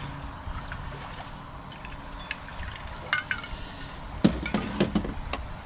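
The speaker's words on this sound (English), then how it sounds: "Strain that into a martini glass." A shaken cocktail is strained and poured into a martini glass: a soft trickle of liquid, followed by a few light clinks and rattles near the end, close but fairly quiet.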